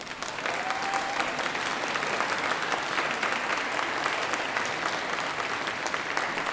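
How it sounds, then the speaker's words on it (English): Graduation ceremony audience applauding steadily for families and supporters, a dense, even wash of clapping that holds at full strength from start to finish with no speech over it. "give their families and supporters a wave and a round of applause"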